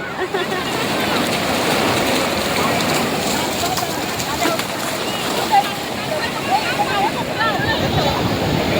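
Ocean surf washes in steadily with a broad, continuous rush of water, while people talk over it.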